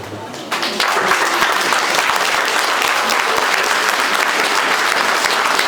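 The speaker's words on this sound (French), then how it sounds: "je vous demande s'il vous plaît, en mon nom et au nom de la paroisse, de vous lever et applaudir pour nous" A congregation at an Episcopal church rises and applauds; the clapping starts softly, then swells after half a second into loud, sustained, dense applause that fills the room.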